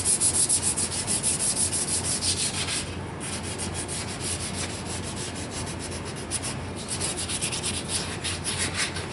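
Hand sanding a wooden Ben Pearson Palomino bow, with steady, close rubbing strokes of sandpaper over the wood. The rasping continues through the whole stretch in a regular back-and-forth rhythm with no voices.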